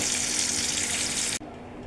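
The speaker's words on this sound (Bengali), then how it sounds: "এখন অপেক্ষা করব এক পিঠ ভালোভাবে ভেজে উঠলে আরেক পিঠ উল্টিয়ে ভেজে নেব" Katla fish frying in hot oil in a pan, a steady close hiss and crackle that runs on evenly, then drops sharply in level and continues more softly.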